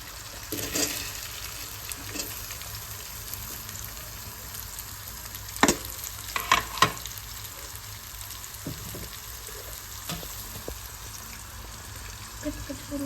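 Salted onions sizzle in a pan for egg biryani, a steady low frying hiss broken by a handful of sharp clinks and scrapes from stirring, with background hum and no talking.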